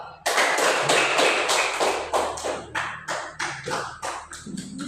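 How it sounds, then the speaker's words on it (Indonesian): A classroom of students applauds a group's performance, a dense burst of clapping that swells loud right away and rolls on in pulsing waves, fading slightly toward the end. "Ya, tepuk tangan dulu untuk penampilan kelompok 2."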